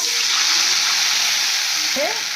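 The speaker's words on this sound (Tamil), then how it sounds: "கொஞ்சமாக தண்ணி ஊற்றிக்கலாம்" Water poured into a hot pan for a sprouted ragi sweet mixture gives a loud, steady rushing hiss and sizzle throughout, close by, with a brief clunk near the end.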